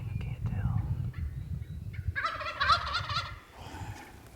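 A Merriam wild turkey gobbler lets out a loud rattling gobble over a low rumbling background, followed by a softer trailing call.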